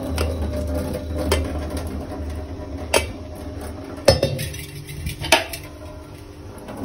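Boiled bottle gourd is tipped and pressed in a metal kitchen strainer, giving scattered clinks and clatters of utensils against metal over a low background hum, with no voices.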